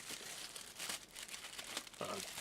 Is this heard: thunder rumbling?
no